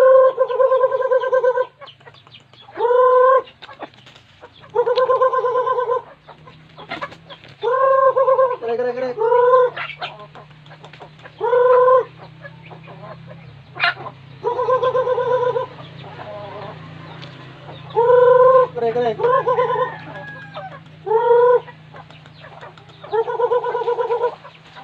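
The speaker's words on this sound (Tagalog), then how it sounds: "bale ito na po yung ating mga alagang native chicken" Native chickens in a backyard give repeated loud, close gargling clucks in regular bursts every second or two, with a low steady hum underneath and no talking.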